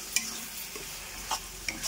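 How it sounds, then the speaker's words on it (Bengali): Spices with mustard-poppy seed paste and green chili paste stirred in a frying pan for a Bengali pabda fish curry, soft steady sizzle under a few sharp scraping strokes of the spoon. "আবারও সব কিছু একসাথে ভালো করে মিশিয়ে নিচ্ছি।"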